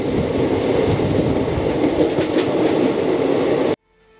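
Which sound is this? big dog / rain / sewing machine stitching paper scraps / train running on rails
train running on rails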